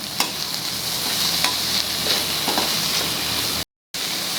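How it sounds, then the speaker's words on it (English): Tomatoes and onion fry in a pan for an okra bhaji, making a loud, continuous sizzle broken by stirring scrapes and clinks, with a brief dropout to silence near the end. "put in the tomatoes and fry it till the tomatoes become soft"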